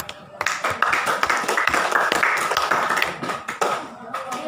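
A group of pupils in a classroom speaking-practice session gives a round of dense, continuous hand clapping, close and lively, with a few faint voices mixed in.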